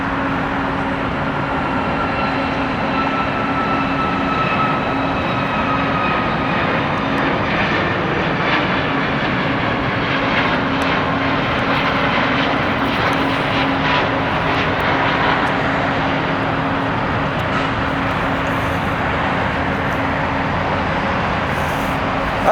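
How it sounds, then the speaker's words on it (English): Southwest Boeing 737 Max 8 jet airliner passing near an airport, a steady loud roar of jet engines with a constant hum, filling the whole stretch without any speech. "Here comes Southwest Max 8."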